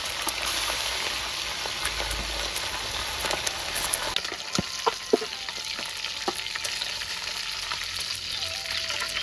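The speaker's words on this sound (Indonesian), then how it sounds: "Goreng iwak laut." Sea fish frying in hot oil in a home kitchen: a steady, dense sizzle and crackle that runs throughout, with a few sharper pops and spatters standing out near the middle.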